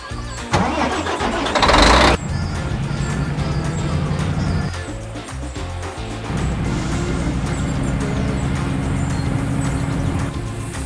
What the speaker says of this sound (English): The transport leaves for our animals.